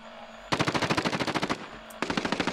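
Suppressed MP5 submachine gun fire in the Call of Duty Warzone video game, two fast rhythmic bursts of muffled, rapid shots, the first about a second long and the second shorter.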